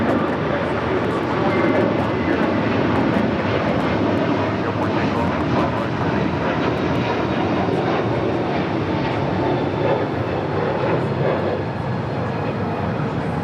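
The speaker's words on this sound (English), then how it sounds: "that LATAM Airlines 777-300ER heading back to Sao Paulo there in Brazil, flight 8087. It's their next heavy departure on 25 right." A LATAM Airlines Boeing 777-300ER heavy jet departs LAX runway 25 right, its steady, loud engine roar filling the whole stretch as a broad, continuous rumble.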